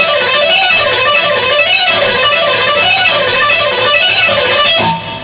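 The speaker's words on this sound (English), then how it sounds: "If you do 4 notes up and down and then 6 notes up and down, that's going to sound like this." Distorted electric rock guitar blends four-note and six-note picking sequences into a rapid, unbroken stream of evenly picked notes with a cycling melodic contour, loud and unaccompanied.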